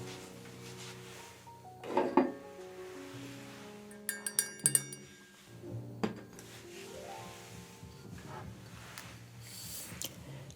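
Glassware clinks and taps as a gin martini is prepared behind a bar, with a few bright chiming strikes around two seconds and again near four to five seconds over soft muffled music and handling noise.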